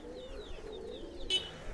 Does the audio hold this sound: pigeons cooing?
yes